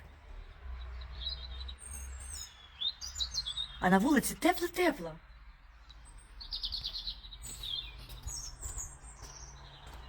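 Small birds chirping and singing outdoors just past an open front door on a warm morning, light tweets scattered throughout with a brief louder burst, while someone speaks quietly nearby.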